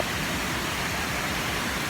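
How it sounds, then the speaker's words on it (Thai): Natural stream water flows at Wang Kan Lueang waterfall in Lopburi as a steady, dense rushing wash, close and fairly loud, with no breaks throughout. "อันนี้เป็นน้ำที่ไหลมาจากธรรมชาตินะครับผม"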